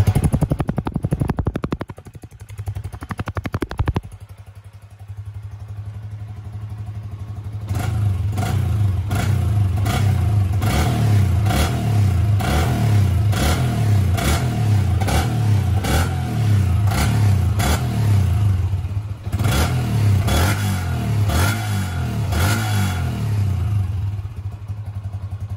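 Yamaha Y15 motorcycle with a Hypertech exhaust revs hard in repeated bursts after a short idle, loud and close, with sharp throttle blips and clattering pops.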